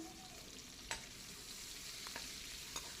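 Garlic and ginger with cumin frying in a pan for aloo baingan, a quiet steady sizzle broken by a few sharp clinks of a spoon against the pan.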